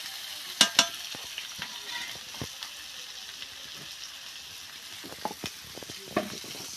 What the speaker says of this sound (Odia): ତାର ସେଇ ସମୟରେ ତେଲ ତାତି ଯାଉଛି ନା, ସେଥିଲାଗି ପକେଇ ଦେଇଛି ପିଆଜ କିଛି।